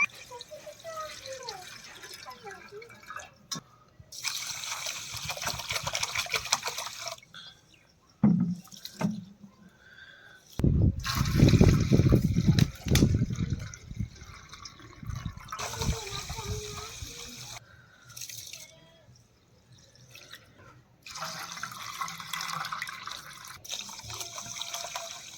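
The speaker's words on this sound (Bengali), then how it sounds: "জল যতক্ষণ পরিষ্কার না হয়েছে এটাকে ভালো করে কচলে কচলে ধুয়ে" Rice for basanti pulao being rubbed and rinsed by hand in a bowl of water, with repeated sloshing, dripping and splashing bursts separated by short pauses, fairly close and moderately loud, and a voice talking between the bursts.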